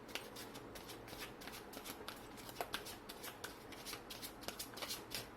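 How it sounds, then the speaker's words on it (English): Oracle cards are shuffled by hand in a steady run of soft riffling and flicking, quiet and close, with no talk. "let me pull some oracle cards to get some more guidance for you"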